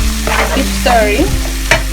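Curry paste of meat curry powder being stirred and fried in a pan for kuah lodeh, close steady sizzle under several scraping utensil strokes, no voices.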